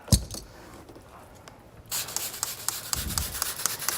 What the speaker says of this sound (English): I'm gonna take my sprayer. Just to be sure, I'm gonna clean off that edge.